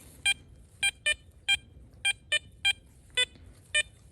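A metal detector sweeping over a buried target at a former plantation site gives sharp, clear electronic beeps, about nine in four seconds, some close together in pairs, over a faint low rumble.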